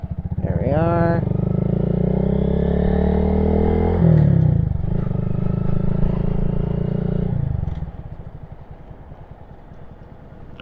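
A 2022 Honda Grom motorcycle pulls away under throttle, its engine note climbing quickly, then holding a loud, steady drone nearby for several seconds before easing off into a quieter idle-like rumble.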